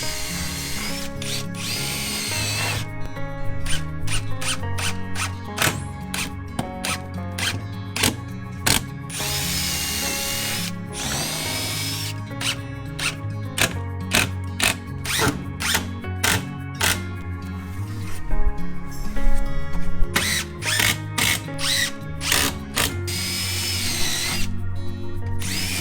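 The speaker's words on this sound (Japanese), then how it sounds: "割り止めをしてからビスで留めていきます" Cordless power driver sinking screws into pine boards of a five-step winding staircase under construction, with repeated short whirring bursts and ratcheting clicks over a dense continuous background of other sound throughout.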